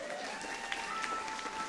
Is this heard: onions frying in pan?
no